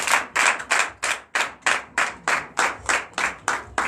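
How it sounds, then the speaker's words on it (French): Rhythmic hand clapping in unison at a Sunday church worship service, about a dozen steady, evenly spaced claps, loud and close with no talking over them. "Donnez l'acclamation"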